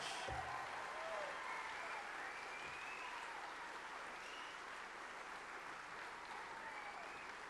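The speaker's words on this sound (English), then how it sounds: "You got to keep that applause going" Steady applause from a large audience fills the whole stretch, dense and unbroken clapping at an even level with faint voices in the background.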